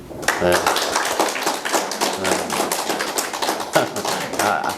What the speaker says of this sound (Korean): 우리가 환영의 박수로